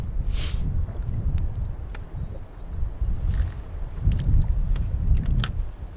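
Strong wind sweeps across a choppy freshwater lake at Manitoulin Island, heard from a fishing boat as a steady, loud low rumble and buffeting with a few faint clicks and knocks.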